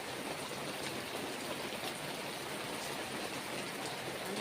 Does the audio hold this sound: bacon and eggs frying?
no